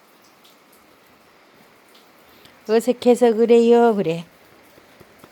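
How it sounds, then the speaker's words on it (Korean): Soft, steady rain patters in the background, and a couple of voices briefly speak over it partway through. "빗소리가 좀 잦아지네"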